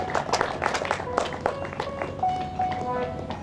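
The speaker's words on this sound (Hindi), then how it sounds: "आप तालियों से स्वागत करें।" Scattered clapping from an audience at a Shrimad Bhagwat Katha gathering in Hirapur, Uttar Pradesh, welcomes a guest. Irregular claps sound moderately close over a backdrop of voices and faint tonal music.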